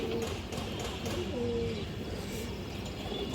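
Soft cooing of a large, arm-length pigeon repeats over a steady background hum, moderately distant and fairly quiet, with no speech.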